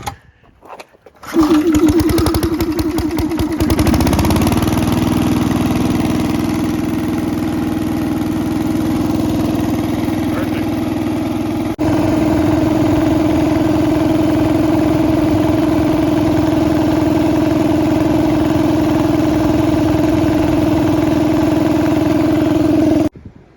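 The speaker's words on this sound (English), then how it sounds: "This is just a cheap air compressor. Now let's see how she starts." A cheap air compressor starts up with a short clattering burst, then settles into a loud, steady motor hum and chug that runs without a break for about twenty seconds, close to the microphone and with no talking.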